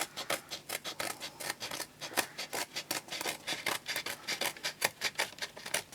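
Scissors snip through paper while trimming it down for a journal cover, a quick run of crisp, close cuts with a steady rhythm and no talking.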